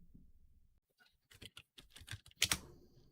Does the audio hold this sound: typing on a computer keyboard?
yes